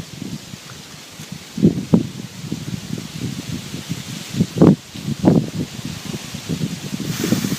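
Wind stirring foliage outdoors during a wood pigeon hunt, steady soft rustling with several louder gusts swelling and fading across the clip, no voices.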